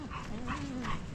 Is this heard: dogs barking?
yes